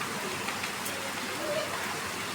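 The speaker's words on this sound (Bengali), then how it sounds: "সকাল সকাল আবার বৃষ্টি শুরু হয়ে গেছে" Steady soft patter of rain falling on a surface, a continuous even wash of drops without pauses.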